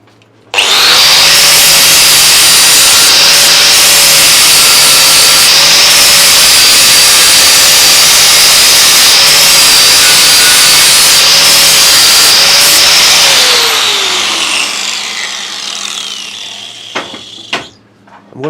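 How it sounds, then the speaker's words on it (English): An electric angle grinder works over metal parts ahead of a silicon bronze weld build-up, a loud steady whine running continuously for about thirteen seconds before spinning down and trailing off near the end. "I'll just plug the grinder in and it'll probably work a lot more efficiently."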